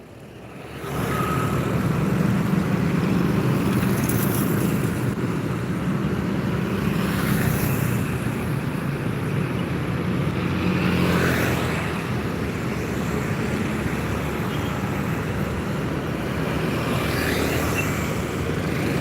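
Private cars passing steadily along a road in Indonesia, a continuous broadband traffic rumble with a few louder passes swelling and fading, no talking.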